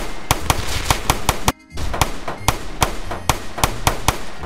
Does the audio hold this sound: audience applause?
no